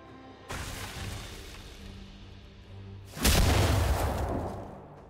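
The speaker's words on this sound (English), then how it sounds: "Red team's turret has been destroyed." A turret collapses in League of Legends with a loud boom and crash at about three seconds. Game ambience and music play before the blast, and the rumble fades out afterward.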